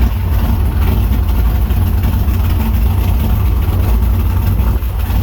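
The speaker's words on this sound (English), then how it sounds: "Hey, that idle's better." A car engine idles on a dyno with a loud, steady low rumble that holds evenly throughout, with no talking.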